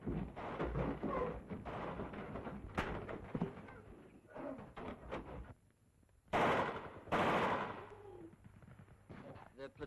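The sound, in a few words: covering gunfire during house fighting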